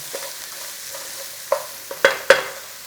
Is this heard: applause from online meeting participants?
no